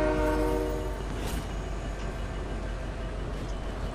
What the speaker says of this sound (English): Yo, the train is coming,